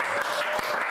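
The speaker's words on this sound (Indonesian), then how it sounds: "Tepuk tangan." An audience claps at a talk show, a brief, steady burst of applause heard close and fairly full.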